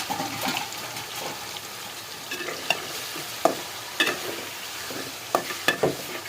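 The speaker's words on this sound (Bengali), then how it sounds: "তেলটা গরম হয়ে গেছে তো আমি মাংসগুলো দিয়ে দিচ্ছি" Pieces of meat fry in hot oil in a kadai, with a constant hissing sizzle and scattered sharp clinks from stirring with a utensil.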